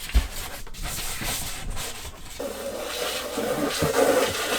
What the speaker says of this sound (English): So I'm going to scrub with baking soda